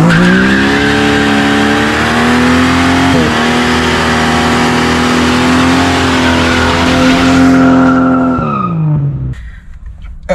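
A car's tyres spin and squeal loudly after a clutch dump, the steady tortured screech riding over a roaring, revving engine for about eight seconds before the pitch drops and it cuts off.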